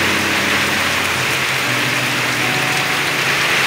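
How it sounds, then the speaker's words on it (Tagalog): A dense, steady roar of heavy rain pours down without pause, loud and close, with a faint low engine-like rumble underneath. "Grabing lakas ng ulan dito ngayon."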